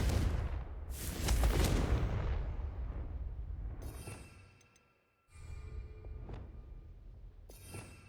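Confringo, the explosive spell in Hogwarts Legacy, fires with a booming blast that rumbles and decays over several seconds, followed by a silent gap and then further sharp game impacts and crackles.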